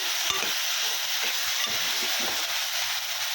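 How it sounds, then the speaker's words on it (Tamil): Mutton sizzles steadily in a hot pan while a utensil stirs it, scraping and clattering softly a few times. "மட்டனை சேர்த்து கிண்டி கொடுத்துக்கிட்டு"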